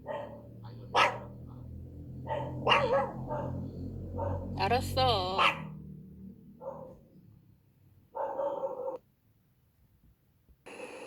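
Dogs in a Laos neighbourhood bark in short bursts at an unfamiliar car, some high and yelping, mixed with a person talking nearby; a distant hum fills the background.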